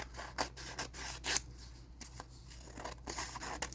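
Sharp scissor snips cutting through ribbon while making a bookmark, a quick irregular series of close, crisp cuts with faint rustling between them and no talking.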